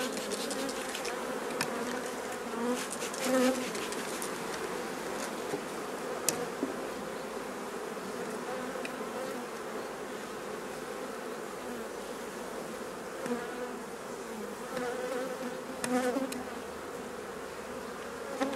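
Dense, steady buzzing of many honeybees swarming over an opened hive heavy with honey stores, continuous and close, with occasional louder swells as bees pass near.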